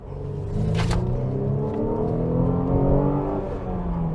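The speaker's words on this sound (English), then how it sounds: "when you want to accelerate hard, okay, that's where things really start to change in the Mercedes GLC300 Coupe" A 2020 Mercedes GLC300 Coupe 4MATIC pulls away hard from a traffic light, its engine note climbing in a close, loud, sustained growl through the gears with no one speaking.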